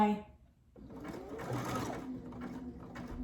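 A Brother Essence VM5200 sewing machine stitching, a steady close mechanical whir that runs after a short pause and then holds, with a person talking over it.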